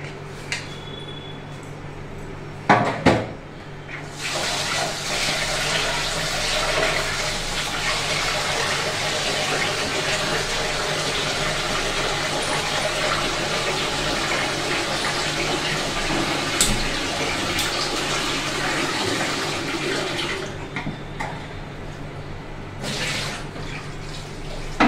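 Tap water runs steadily for about fifteen seconds while rice is washed for cooking, a continuous close splashing gush with a few clattering knocks before it starts.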